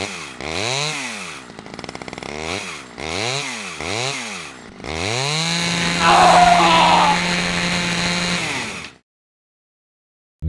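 A chainsaw revs in repeated bursts, its engine pitch sweeping up and down three times, then holds a steady loud roar for several seconds before cutting off abruptly.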